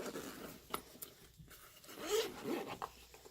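A camera bag zipper is pulled open in a few quick rasping strokes, close and fairly quiet, with light rustling between the pulls.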